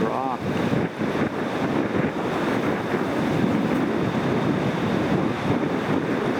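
River rapids on the paddling route to Great Slave Lake rush as a broad, steady roar of churning water mixed with wind buffeting the microphone, loud and continuous throughout.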